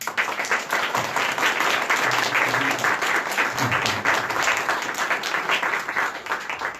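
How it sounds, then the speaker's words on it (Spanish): Sustained, dense applause from a debate forum audience fills the room steadily for several seconds without a break. "Un aplauso, por favor."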